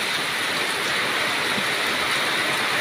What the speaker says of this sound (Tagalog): Lakas ng hangin. Lakas pa ng ulan.